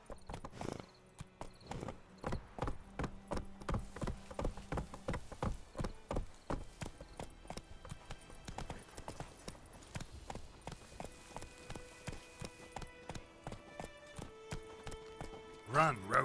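Roach, a horse in The Witcher 3, gallops with rapid, rhythmic hoofbeats close by, steady and fairly loud, with a brief burst of other noise near the end.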